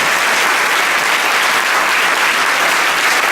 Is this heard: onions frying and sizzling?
no